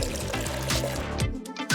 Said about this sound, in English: first pour the water into these cups.